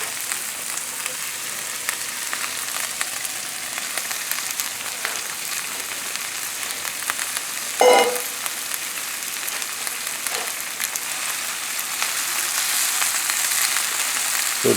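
Kale frying in a pan, a loud steady sizzle and crackle that keeps on throughout, broken by one brief scrape or clatter partway through.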